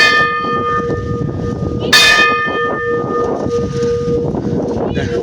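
A metal temple bell rings at Old Baba Mandir in East Sikkim, one bright clang with a long shimmering ring-out over windy outdoor noise and scattered background voices.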